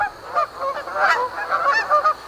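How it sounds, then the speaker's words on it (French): Canada geese honking repeatedly in a steady overlapping chorus, moderately close and fairly loud, with no talking. "on écoute les outardes. Ça nous calme,"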